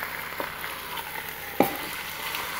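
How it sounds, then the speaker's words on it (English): Cross cut beef shank sears in a Ninja Foodi pot, giving a steady close sizzle with a sharp scrape or clank midway as the meat is flipped, and no talking. "That's the sear we're looking for."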